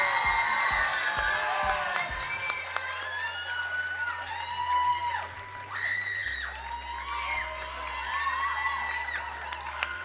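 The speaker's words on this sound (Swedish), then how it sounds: "En ännu större applåd för Witchy Koss!" An audience at the NärCon Expo Södertälje 2024 cosplay competition claps and cheers loudly and steadily, with whoops and shouts rising over the dense applause throughout.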